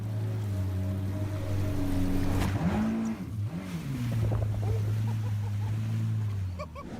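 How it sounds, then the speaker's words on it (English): A loud, steady boat engine drone out at sea with a low hum that dips and rises in pitch, water wash around it, up close. "The sound of the engine out at sea suddenly catches the attention of a guest below the water"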